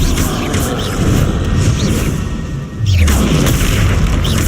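A loud, booming Confringo fire-spell blast in the video game Hogwarts Legacy rumbles heavily throughout, with a brief dip before a second deep impact swells back in.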